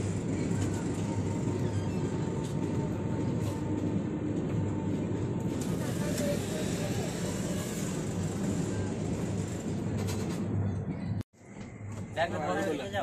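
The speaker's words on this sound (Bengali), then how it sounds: "পুনে স্টেশন ঢুকছে, 1 নম্বর প্ল্যাটফর্মে" A passenger train pulls into platform 1 at Pune station with a loud, continuous rumble and rolling clatter and people talking nearby. The sound drops out abruptly near the end, then resumes.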